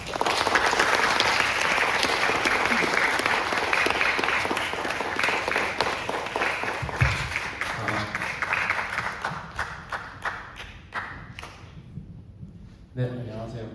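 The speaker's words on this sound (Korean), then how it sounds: "그럼 소개는 여기까지 하고 뜨거운 박수로 정재훈님을 맞아주시기 바랍니다." A large audience at a public astronomy lecture at Seoul National University applauds loudly and steadily to welcome the speaker, the clapping thinning into scattered claps near the end.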